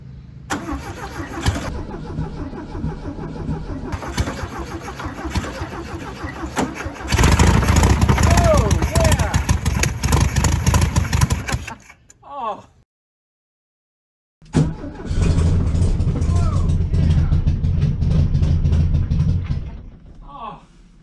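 A 1968 VW Beetle salvage-yard engine cranks loudly in neutral with fuel poured into the float bowl, stumbling and catching in bursts, falling silent for a couple of seconds, then cranking and running again with voices nearby.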